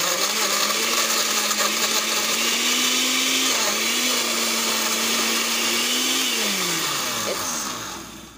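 An Oster blender churns frozen fruit into a smoothie, a loud continuous motor whine that dips and shifts pitch as the blade bogs down in the ice, running close and steady before trailing off at the end.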